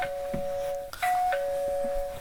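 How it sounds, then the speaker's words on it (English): A Wumal WiFi video doorbell rings, sounding sustained two-tone electronic chime notes that switch pitch partway through, loud and close with no talking. "I'm gonna press the doorbell now over here, and then I'm gonna show you what happens."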